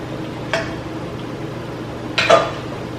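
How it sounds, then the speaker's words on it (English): Pasta being stirred into a pot of dairy-free cheese sauce, heard as two sharp clinks of a utensil against the pot over a quiet background hum. "You can start to add your pasta in."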